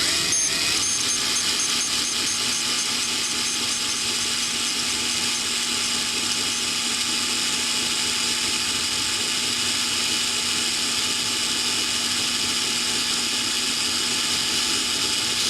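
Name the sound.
power drill drilling into car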